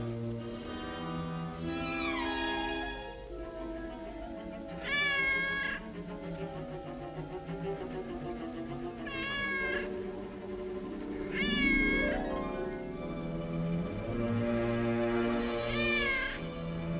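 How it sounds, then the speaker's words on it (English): A cat meows several times in a row, with rising and falling cries spread across the clip and a steady orchestral film score playing underneath. "That cat, I'd swear I put her out."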